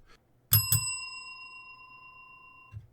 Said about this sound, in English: I feel like I needed my bell.